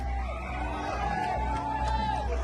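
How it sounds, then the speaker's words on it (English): Supporters in a crowd of about 3,000 at a Charlie Kirk appearance cheer and chant his name, a dense continuous roar of voices with whoops rising over the steady babble. "Supporters start chanting Kirk's name ahead of his appearance."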